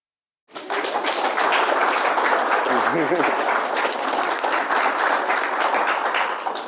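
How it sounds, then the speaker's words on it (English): An audience at a church-related talk bursts into applause after a half-second of silence, a dense, sustained clapping that stays loud and even, fading slightly at the end, with a brief voice partway through. "Unlike church, it is okay to clap."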